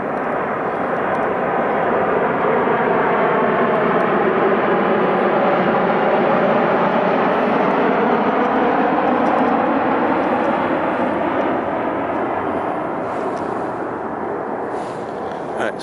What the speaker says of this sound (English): There's another plane coming.